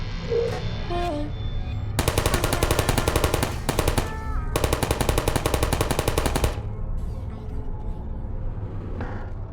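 Automatic turrets from the game Portal open fire in an ambush, two long sustained bursts of rapid gunfire close by with a brief pause between, set against a low ambient drone.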